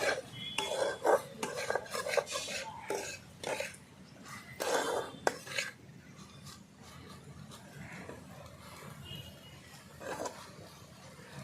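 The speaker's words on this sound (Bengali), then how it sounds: "এবার ঢাকনাটা নামিয়ে একটু ভালো করে নাড়িয়ে নেব" A spatula scrapes and clatters against a pan in repeated bursts, stirring fried taro flowers with onion and chili over a soft sizzle. Close up, with quiet gaps between strokes.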